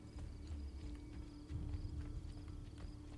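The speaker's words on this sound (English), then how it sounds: "Is that a horse? Yay, horse!" Horse hooves clip-clop in the video game Assassin's Creed II, a faint, irregular run of hoof strikes over a low steady in-game background hum.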